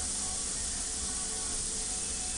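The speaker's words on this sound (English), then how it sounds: "that slow, steady steam release" A pressure cooker cooking corned beef lets off a slow, steady release of steam, an unbroken close hiss that stays even throughout.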